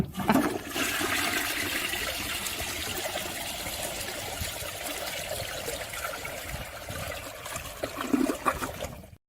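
A toilet flushes in one long, continuous gush of water that swirls and trickles for several seconds before tapering off, fairly quiet and close.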